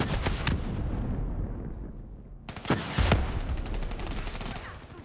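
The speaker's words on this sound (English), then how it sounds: "Hardened sentry firing." Hardened sentry gun from Call of Duty Black Ops 3 fires in loud, dense bursts of rapid gunfire, with sharp heavy reports near 0.5, 2.6 and 3 seconds inside a constant roar of battle.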